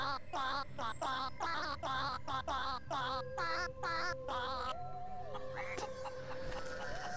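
Chicken clucking in the Rabbids Travel in Time video game, a rapid run of loud, close, repeated clucks followed by a longer drawn-out squawk.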